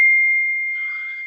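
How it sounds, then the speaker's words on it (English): A single clear ding from a phone's text message alert rings out and decays slowly, loud and close, with no one talking. "That is a text message"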